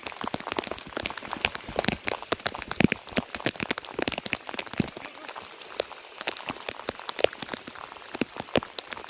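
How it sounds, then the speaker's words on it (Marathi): Sudden rain falls on a farm in the Konkan region, dense drops pattering and ticking sharply on nearby surfaces in an irregular, continuous shower, close and fairly loud with no talk. "अचानक आलं पाऊस बघा आहे"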